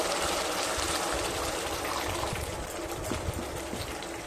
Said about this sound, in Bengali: এবার দিয়ে দেব খুব সামান্য জল